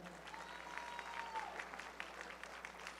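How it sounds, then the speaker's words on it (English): Crowd at a powerlifting national championship meet applauds a newly named committee chair, a soft, distant patter of clapping that holds at an even level for a few seconds. "Please give a round of applause for her."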